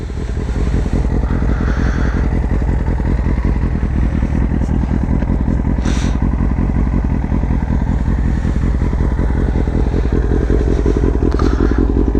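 A motorcycle fitted with headers and a full aftermarket Yoshimura exhaust idles loudly and close, its deep, steady burbling rumble holding evenly throughout with faint rattling on top.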